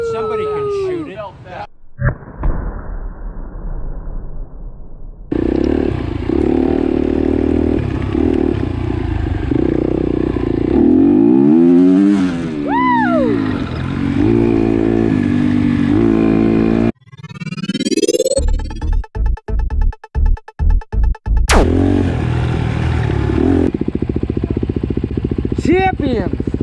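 A motorcycle engine revs loudly and close, with rising and falling pitch sweeps, then a stretch of sharp rhythmic pops and bursts, while voices talk over it at times.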